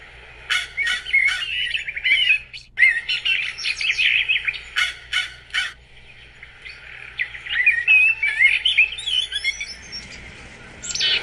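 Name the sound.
backyard birds chirping in Nova Scotia winter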